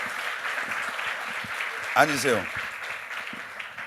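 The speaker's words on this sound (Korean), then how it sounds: "세게 박수 한번 쳐주세요" Congregation at a young adults' church worship service claps together after a Bible recitation, a steady broadband patter filling the room while a voice speaks briefly over it.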